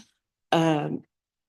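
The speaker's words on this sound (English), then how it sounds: "Now I'm coughing, sorry." A single harsh throat-clearing cough, brief and close, lasting about half a second in otherwise quiet surroundings.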